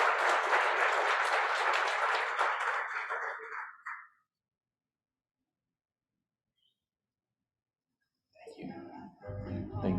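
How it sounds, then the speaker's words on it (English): Audience applause at a business conference fills the first four seconds, then fades to silence before clapping picks up again near the end. "Round of applause for Mr. Damian Mills and Terry Adams for nav"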